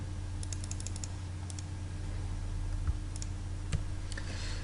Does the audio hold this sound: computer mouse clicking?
yes